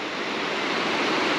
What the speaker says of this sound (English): Pretty little waterfall there.